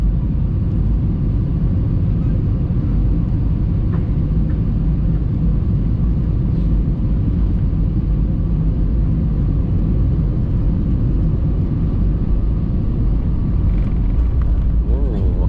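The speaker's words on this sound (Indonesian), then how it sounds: "inilah detik-detik pendaratan pesawat Stiling di Bandara Hang Nadim Batam" A low, steady rumble of a Citilink plane's engines during landing at Hang Nadim Airport, Batam, heard continuously from inside the cabin without change or break.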